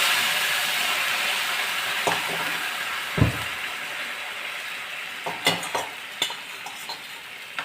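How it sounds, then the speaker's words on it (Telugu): Curry leaves and jackfruit seed curry sizzle in a hot pan, giving a steady, close, hissing fry throughout, broken by a few sharp knocks of a spoon stirring against the pan. "ఇప్పుడు కరివేపాకు ఇందులో వేసుకుందాం. ఈ కూర కూడా దీంట్లో వేసుకుందాం."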